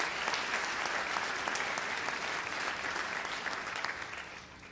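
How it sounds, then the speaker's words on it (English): Applause from an audience at a college choir and band district clinic concert, a steady wash of clapping that holds for nearly five seconds before easing off slightly at the end. "give Northwest College just in general a round of applause"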